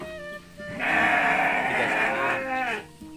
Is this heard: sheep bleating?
yes